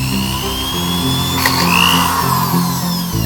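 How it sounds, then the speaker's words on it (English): Power drill boring a 3/8 inch hole in a chicken watering setup, a steady loud whirring drone with a faint higher whine rising partway through, running continuously without talk. "I drill one in the middle."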